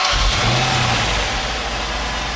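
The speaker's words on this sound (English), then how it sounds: "we're going to get back in with trippy little key, start up this car" A Dodge SRT Hemi V8 car with a newly installed engine module starts and revs, giving a loud, steady, close engine roar that holds throughout.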